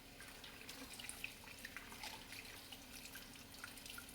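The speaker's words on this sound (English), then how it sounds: "I'm gonna wash my hands a little bit." Water runs from a sink tap while hands are washed in a home kitchen, a faint, steady trickle with small splashes and drips throughout.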